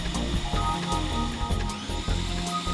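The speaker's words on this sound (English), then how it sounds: "Open the discharge valve and run the drill." A steady mechanical whir with a hissing, spraying rush, like a drill-driven water pump running continuously at close range, being primed with the discharge valve open.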